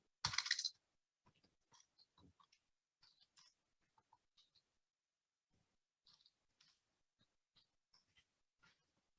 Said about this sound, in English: how do I type this up?